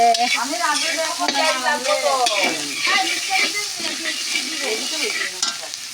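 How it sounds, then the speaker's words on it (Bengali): Onions sizzle in hot oil with a steady, loud hiss and occasional stirring scrapes, while tonal, melodic sounds wander underneath. "পেঁয়াজ ভাজা হচ্ছে"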